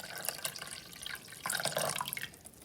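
Water pours and trickles into a cooking pot at close range, a splashing, dripping flow that swells midway and then tapers off, with no voices.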